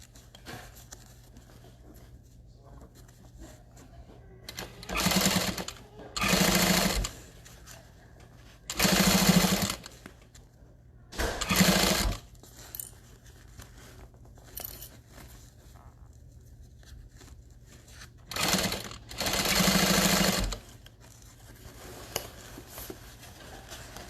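A sewing machine stitches a half-inch seam from the inside of a foam-lined tote bag, running in several short bursts of a few seconds each with quiet pauses between them, close and fairly loud, with no talking.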